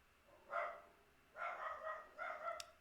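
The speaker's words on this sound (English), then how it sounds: "my dog is barking" A pet dog barks indoors in the distance, three short bursts of moderately faint barking with gaps between them.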